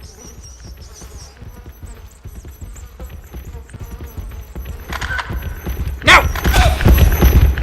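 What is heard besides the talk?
pig charging through, from video game DreadOut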